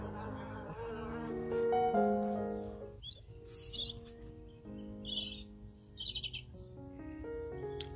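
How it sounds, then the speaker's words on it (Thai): Bee buzzing played from a Peter Rabbit nature-walk sound book, an electronic clip mixing a droning hum with chirpy bird-like notes, close and fairly loud, no talk. "เสียงของผึ้งนะคะ"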